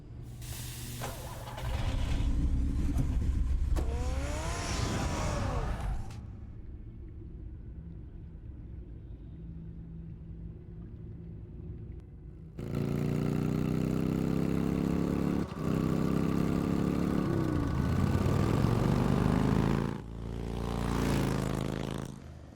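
Batmobile engine from a Batman video game, a loud low rumble revving and accelerating in two long bursts separated by a quieter lull, with a final shorter surge near the end.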